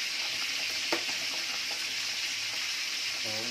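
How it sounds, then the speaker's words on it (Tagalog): A pot of boiling mung bean stew bubbles and hisses steadily while being stirred, with a faint knock of the spoon and soft bubbling throughout. "So haluin mo natin."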